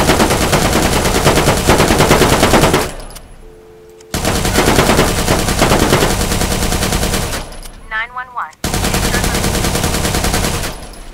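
Rapid automatic gunfire in Watch Dogs 2 during a shooting test with the Cavale car, loud sustained bursts broken by short quiet gaps, with a brief whistling tone in one pause.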